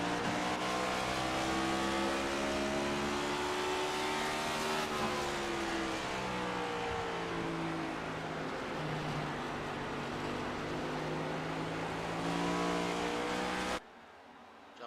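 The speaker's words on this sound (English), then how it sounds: "Listen to the throttle control there on Evan Pienta." A race car engine in the Children's Hospital of Richmond at VCU 160 at Richmond Raceway holds a loud, steady high-pitched drone, its throttle modulating in pitch as the car, driven by Evan Pienta, circles the track, cutting off abruptly near the end.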